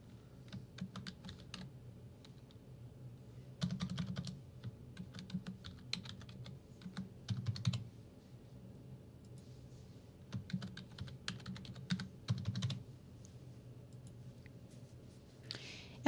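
Fingers tap out a password on a computer keyboard in quick irregular bursts of light clicking keystrokes, close and fairly quiet over a low steady hum, with short pauses between runs.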